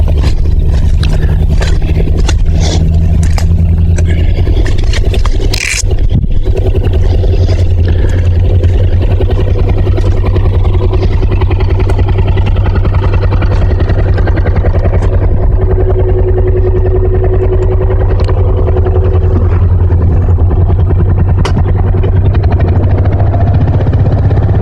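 A Mule utility vehicle's engine labors steadily while pulling two log pieces up a hill outdoors, a loud continuous low drone with a brief dip partway through.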